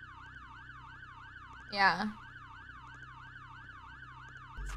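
A wailing siren in the Roblox game Brookhaven, rising and falling in a steady, regular cycle throughout, moderately loud, with a brief spoken word cutting in partway through.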